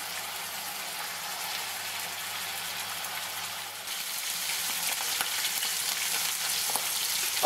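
Steaks fry in a pan of melted butter and oil, a steady broadband sizzle that grows slightly louder and crackles more in the second half, with no talking.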